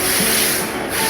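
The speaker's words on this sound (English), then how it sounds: "You can see the thing which is spraying is a degreaser." Degreaser sprayed from a pressurized nozzle during car detailing, a continuous loud close hiss lasting about a second with no break.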